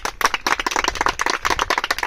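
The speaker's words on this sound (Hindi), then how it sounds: "इनका स्वागत करते हैं, जोरदार तालियां।" Loud clapping from a gathered audience welcoming a young woman who qualified in the MP Police physical test, dense irregular claps filling the whole stretch.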